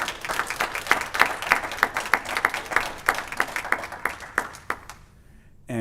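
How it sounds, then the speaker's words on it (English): An audience at a fast pitch competition gives the three judges a round of applause. Steady, dense clapping rings out in a room for about five seconds before fading to near silence. "A big round of applause to our three judges"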